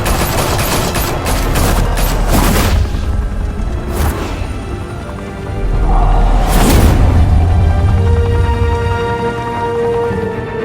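Gunfire bursts in Batman: A Telltale Series, a rapid cluster of loud shots up front, then scattered booming blasts and a heavy rumble later, with no talk.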